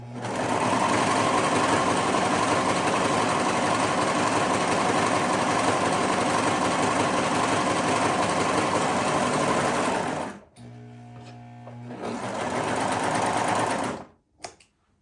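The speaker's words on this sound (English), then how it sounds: "So the first stitch I'm going to do is the just regular 4-thread overlock stitch." An overlocker sews a regular 4-thread overlock stitch, running with a loud, steady mechanical whir for about ten seconds. It then stops, gives a shorter, quieter run and ends with a brief final burst.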